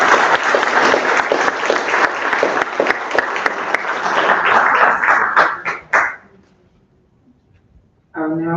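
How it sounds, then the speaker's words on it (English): Council chamber audience applauds Charmaine Kinder with a loud, dense burst of clapping that carries on for several seconds, then quickly dies away into near silence before a voice begins speaking. "I just want us to give a round of applause to Charmaine Kinder."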